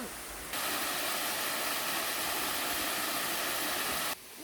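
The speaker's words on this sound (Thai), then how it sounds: "นี่คือ น้ำตกเต้า" Tao waterfall in Uthai Thani, Thailand, roars as a steady, dense rush of falling water that stays loud and close from start to finish, with a quieter stretch at the very beginning.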